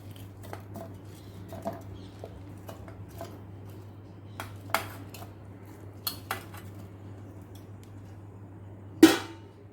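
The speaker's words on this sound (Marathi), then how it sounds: "आता मी इथे मिक्सरचं भांडं घेतलं आहे आणि आपण ह्या ज्या कलिंगडच्या फोडी करून घेतल्या आहेत त्या ह्याच्यामध्ये घ्यायच्या आहेत।" Watermelon pieces drop into a kitchen mixer jar as sparse soft clinks and thumps, with one sharper knock near the end, over a low steady electrical hum in a quiet room.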